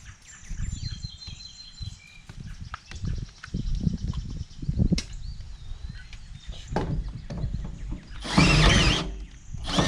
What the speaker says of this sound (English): Gotta make these holes a half inch too on the bracket.